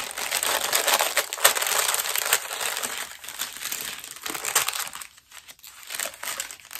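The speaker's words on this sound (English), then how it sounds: "I wonder where she found all these fun brown paper bags" A brown paper bag is opened up close, giving continuous crisp crinkling and rustling with a few louder crunches, tapering into quieter intermittent rustles near the end. No talking.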